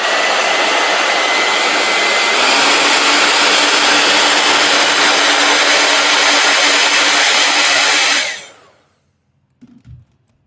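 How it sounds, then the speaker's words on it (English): A heat gun blows with a loud, steady whooshing roar for about eight seconds, then cuts off and winds down to silence, followed by a brief soft knock. "And heat gun."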